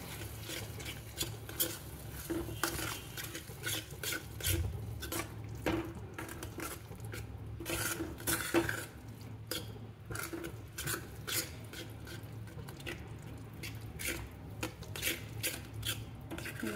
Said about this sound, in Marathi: दही टाकायचं आहे आणि हलवायचं आहे.